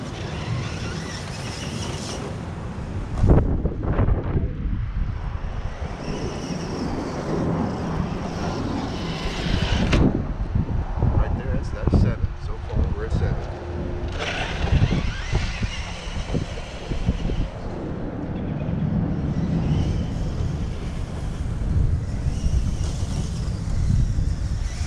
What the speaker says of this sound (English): we are going to be in high gear, all diffs unlocked and everything on the Bronco TRX4 3S pack